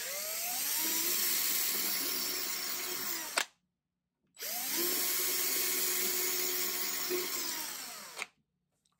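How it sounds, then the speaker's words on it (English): A high-pitched electric drill bores into the wooden gunwale of a skin-on-frame kayak, whining steadily in two long bursts separated by a brief pause, close and loud, with no talking. "you got to start your drill square to the gunwale, and then tip it up once you get a bite"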